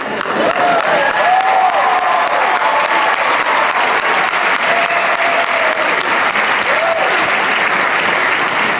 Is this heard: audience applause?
yes